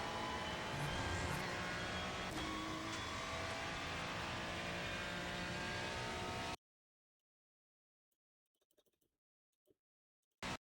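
Race car engine held at full throttle in the iRacing sim at Virginia, a loud, steady high-revving drone for several seconds, cut off abruptly into near silence with a few faint clicks.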